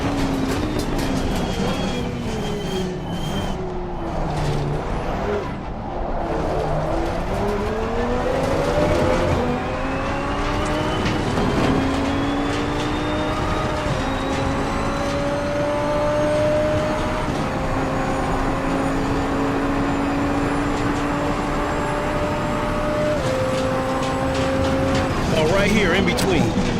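GT2 race cars at the Red Bull Ring in Assetto Corsa Competizione, played in VR, with engines rising in pitch as they accelerate along the straights and shift through gears, a steady loud drone under occasional talk.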